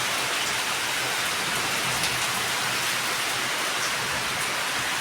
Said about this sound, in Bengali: এই দেখেন বৃষ্টি শুরু হয়ে গেছে।